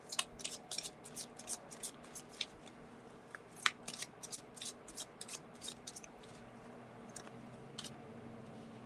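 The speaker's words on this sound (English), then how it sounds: "she's still shuffling." Tarot cards being shuffled by hand during a paranormal-themed live session, a steady run of crisp riffling snaps and soft card slides, close and fairly quiet over a low room hum, with no talk.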